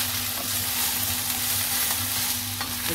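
Masala bhendi (okra) sizzling and crackling in a hot pan, a steady, close frying hiss throughout, with no voices.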